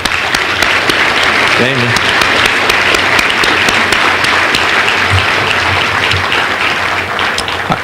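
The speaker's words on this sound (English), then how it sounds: "Please give them a round of applause." A banquet audience at a lecture series event applauds loudly and steadily for several seconds after board members are asked to stand, with a brief voice heard over the clapping.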